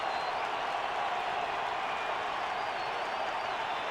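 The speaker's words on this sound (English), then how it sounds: "The crowd is loud here." Ballpark crowd in the baseball video game MLB 11: The Show, a steady, broad roar of fans sustained at moderate level with no distinct breaks.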